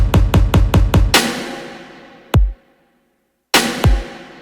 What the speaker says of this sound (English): And we layered cinematic snare sound like this.